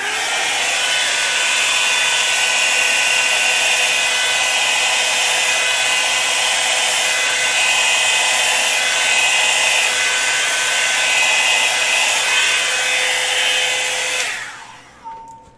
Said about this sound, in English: so I'm not going to say anything while I blow this.